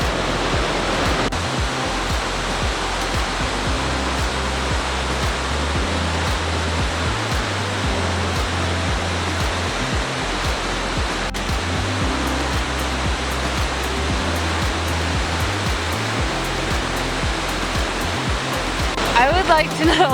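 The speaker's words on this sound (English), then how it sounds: "It's a waterfall and it's stunning." Roaring waterfall beside the Icefields Parkway in Alberta, a loud, steady broadband rush of falling water filling the whole stretch without letting up, with a brief extra splash or gust near the end.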